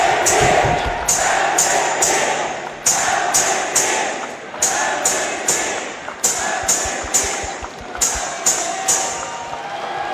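An arena crowd at a farewell for basketball player Lin Chih-chieh (林志傑) cheers and applauds steadily, with repeated sharp bursts of clapping and whoops over a dense, loud roar that continues throughout.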